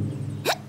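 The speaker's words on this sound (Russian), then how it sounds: "это икота. Пройдет." A single short cartoon hiccup from an animated character, a quick rising squeak-like gulp over a quiet background hum.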